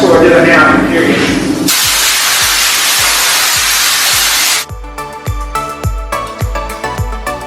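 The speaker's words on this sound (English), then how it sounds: "Spray this stuff off one more time with air before I tack rag it off." Compressed air blasting off a Corvette Z06 quarter panel during body prep, a loud steady hiss for about three seconds that then cuts off, leaving music with a regular beat.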